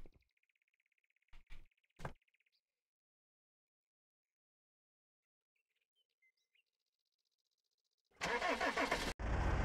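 A car engine in the video game Ocean is Home cranks and starts loudly near the end, after a quiet stretch with a few faint chirps and brief clicks.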